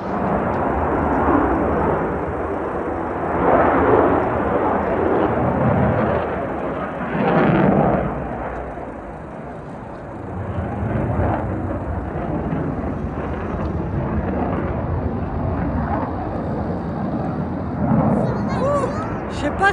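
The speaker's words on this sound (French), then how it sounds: "mais c'est des Mirage 2000 qui décollent ici" Mirage 2000 fighter jets taking off nearby, a loud, continuous broadband roar that swells and fades over the whole stretch, heard outdoors with wind buffeting the microphone and people talking in the foreground.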